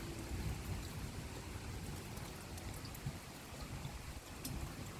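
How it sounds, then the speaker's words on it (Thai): Steady rain pours down continuously with a low, rumbling undertone of distant thunder throughout, no voices present, during a storm in southern Thailand. "เสียงฟ้ามาแล้วค่ะ"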